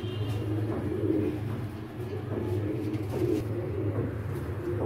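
Pigeons kept by a fancier coo low and throaty in steady, overlapping phrases close by, a soft rolling murmur that carries on through the whole stretch.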